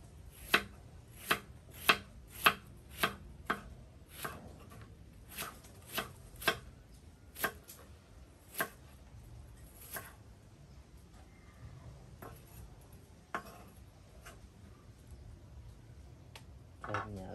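Knife slices through half an onion on a cutting board at home, a quick run of sharp evenly spaced chops that slows and thins into scattered cuts, close and moderately quiet with no talking.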